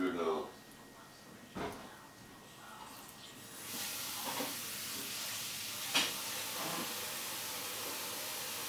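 Greasy steak frying in a pan, a steady soft sizzle and hiss that swells partway through, with a few clinks and bumps of stirring and handling.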